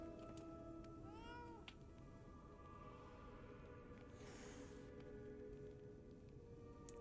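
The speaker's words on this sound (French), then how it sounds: "Oh, il y avait un chat, j'ai pas vu qu'il y avait un chat." A cat meows in the video game Lies of P, a short series of rising cries that sit over a steady hum of game ambience and music.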